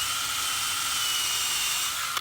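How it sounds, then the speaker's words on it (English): A steady high-pitched electric drill whine bores a tap hole into a maple tree, running continuously for about two seconds, then cutting off abruptly at the end. "You gotta keep the drill straight."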